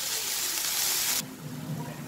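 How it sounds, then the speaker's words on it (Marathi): Water splashed into a pan of coriander with chilli powder and salt sets off a bright sizzling hiss that drops abruptly to a softer bubbling simmer, close up with no talk. "तर थोडंसं पाणी घातलं मी आणि मिठामुळे पण थोडंसं पाणी सुटतं"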